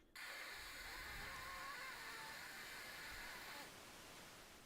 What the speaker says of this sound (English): it outputs white noise. So technically it does have sound, but it's fucking static